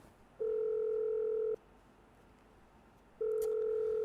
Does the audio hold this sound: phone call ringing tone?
yes